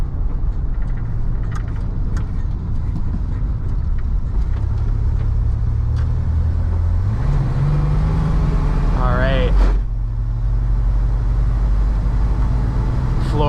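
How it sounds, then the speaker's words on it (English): A 1988 Dodge Ram B250 Safari van's engine drones and rises under hard throttle while merging onto a highway, with steady road roar throughout and a brief whining sweep partway through. A driver's voice talks over it. "mashing this throttle, trying to get out to highway speeds"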